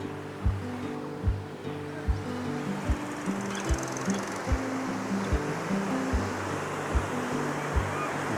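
River water on the Kana river rushes past a rural village in Hooghly as a broad, continuous wash, with a steady low thumping beat running underneath it.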